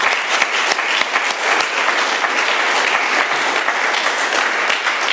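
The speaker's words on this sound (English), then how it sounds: "Let's give Frank a round of applause." An audience at an AA meeting applauding, dense steady clapping from many hands that fills the room for several seconds without a break.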